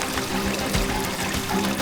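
Water pours through a filter of spruce branches and wood charcoal, a steady close trickle and splash that keeps going without talk.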